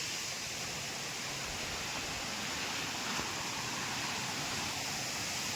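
Godipali waterfall in Nayagarh roars as a dense, continuous broadband rush of falling water, loud and close throughout with no breaks.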